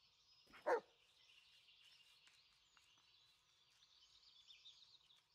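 A single short bark from a German Shepherd in the Blair Witch video game, sharp and fairly close, followed by a faint steady high-pitched ambient tone with no speech.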